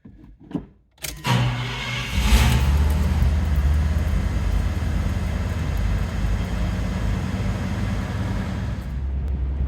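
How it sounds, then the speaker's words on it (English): A cold start of a 1976 Cadillac Eldorado convertible with 7,307 miles: a short click and crank, a brief stumble, then the big engine catches with a loud rush and settles into a steady, deep idle. "I'm about to start the car cold"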